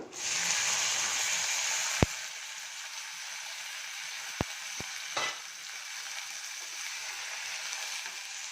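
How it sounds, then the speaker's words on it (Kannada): A tempering fries in a pan with fresh hyacinth beans, a soft, steady sizzle broken by a few sharp clinks of a stirring spoon against the pan. "ಸ್ವಲ್ಪ ಚೆನ್ನಾಗಿ ಫ್ರೈ ಆಗಲಿ"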